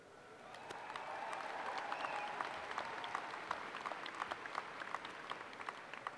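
Crowd at a Murray State University commencement ceremony clapping, a broad sustained wash of applause that swells in and holds steady with distant scattered claps.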